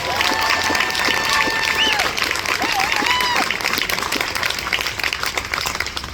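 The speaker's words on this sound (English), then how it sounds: "let's just give a round of applause for all the bivalve aquaculturists in the great state" A political rally audience in Brunswick, Maine, applauds loudly and continuously, dense clapping mixed with cheers, whoops and crowd babble throughout.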